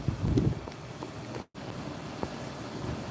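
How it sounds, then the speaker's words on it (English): Steady broadband wind rush buffeting the microphone, with gusty low rumbles early on and a brief dropout in the middle. "Oh, it's so windy."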